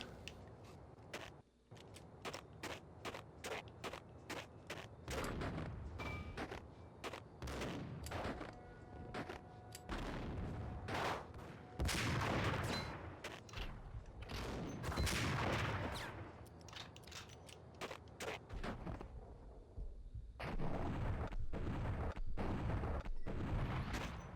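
Rapid bursts of gunfire in the video game Max Payne, dense repeated shots and heavy booms going almost nonstop, loud and close with brief gaps.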